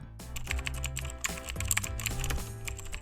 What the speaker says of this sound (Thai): ค้นหาคำว่า Keyboard Effect ลองเล่นดูนะครับ